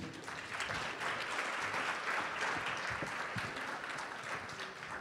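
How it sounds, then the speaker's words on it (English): An audience at the 2021 Zenger Award ceremony of the University of Arizona School of Journalism gives a steady, even round of applause lasting several seconds, heard from a slight distance. "We'll give him another round of applause."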